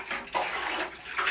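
Water sloshing and splashing inside a motorcycle fuel tank being rinsed out, a steady wet churning with a couple of louder surges, close and continuous.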